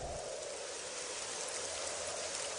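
Steady rain in a coastal setting on the island of Malta, a soft continuous hiss of falling drops with no break or change and no voices.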